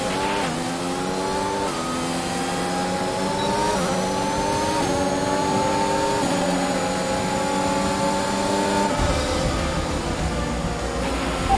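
An F1 power unit in the F1 2021 racing game roars loud and steady, rising through gears with pitch climbs and shift steps, a continuous high-revving engine note throughout with no talk.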